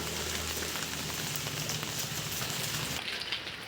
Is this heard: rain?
yes